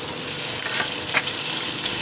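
Steady, loud sizzling of chicken feet frying in a hot pan, with brief scraping stirs partway through and no voices.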